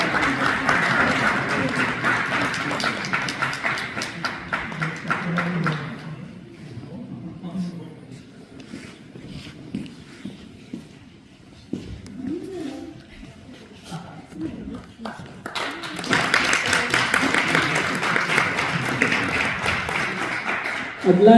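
Audience applause at a community event in a hall, a dense burst of clapping at the start that fades under a spoken announcement, then swells back up loudly toward the end.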